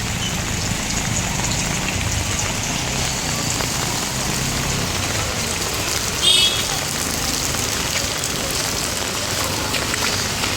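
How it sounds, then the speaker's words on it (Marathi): Monsoon rain falls over a flooded suburban street in the morning. A constant moderate hiss of rain and drops continues throughout, with a brief faint chirp partway through. "सकाळी पावसाचा जोर जरा कमी झाला आहे"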